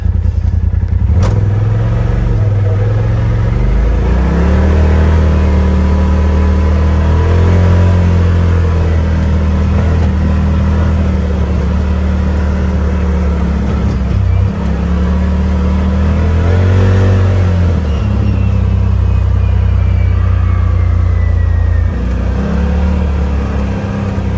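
A Polaris RZR Turbo S side-by-side in two-wheel drive, its turbocharged engine revving up and down in repeated loud pulls over a steady rumbling idle, close to the microphone with no talking.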